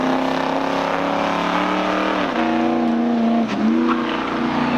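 Race cars at Seekonk Speedway pulling away from a standstill start, a loud, close engine drone with a tone that dips and climbs as gears shift.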